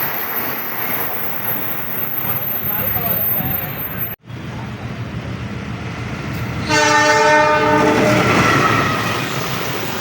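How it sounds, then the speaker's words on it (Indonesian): A CC206 locomotive pulls an Argo passenger train past with a steady rumbling roar, and partway through it sounds a long, loud, sustained horn blast. People talk over the passing train. "Lokomotif CC206 kereta api Argo"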